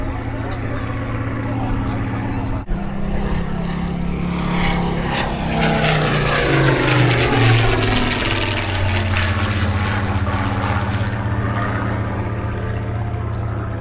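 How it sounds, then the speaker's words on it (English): Supermarine Spitfire Mark 19 propeller fighter making a pass at a seaside airshow, its engine drone swelling louder as it nears and then easing away, heard steadily across the whole stretch with a sharp brief knock early on. "this aircraft was one of several Mark 19 Spitfires"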